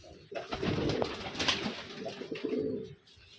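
Pigeons coo close by in a soft, throaty burble that lasts about three seconds, quiet but clear, with no talking over it.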